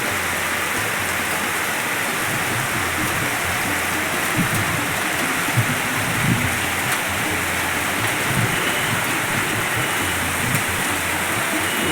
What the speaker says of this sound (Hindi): सुनिए बारिश की आवाज़।